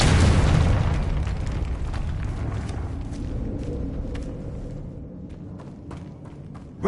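A Confringo spell explosion in Hogwarts Legacy lands as a loud, booming blast that decays into a rumbling tail, followed by scattered small pops and thuds as it fades.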